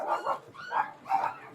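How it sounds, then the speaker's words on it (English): Dogs bark in a hoarder's house crowded with many dogs, giving three short close bursts of barking with brief gaps between them and no talk over them. "We're just wandering through the fucking wave of dogs."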